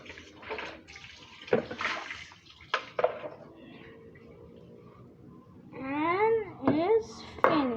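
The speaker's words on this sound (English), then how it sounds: "How many times have I been rinsing it over and over again?" Running water rinses a bronze Buddha statue, splashing and trickling in uneven bursts with voice-like sounds mixed in and a louder wavering stretch near the end.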